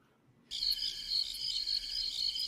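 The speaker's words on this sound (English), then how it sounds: "Yeah, Cricket." A cricket chirps in steady, high, rapid trills after a moment of silence, close and continuous with no other sounds around it.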